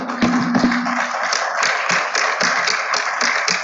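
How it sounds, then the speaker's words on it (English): A small audience at a question-and-answer session claps in a loose, uneven patter of individual hand strikes, fairly close and steady for a few seconds. "I think this deserves a huge round of applause."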